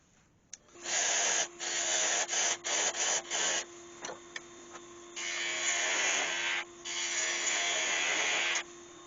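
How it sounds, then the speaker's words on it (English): Handheld sanding of a wood-turned piece on the lathe with coarse 80-grit paper, loud hissing bursts of abrasion broken by short pauses, then longer steady passes, with a constant high lathe whine underneath. "let's get and sand that down"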